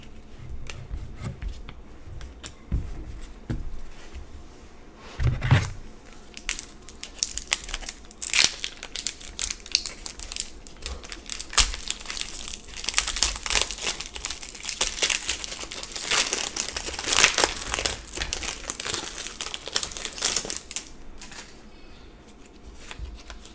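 Foil wrapping of a Soulcalibur VI trading card pack is torn and crinkled up close, followed by cards being shuffled and handled in a long stretch of rustling and scraping.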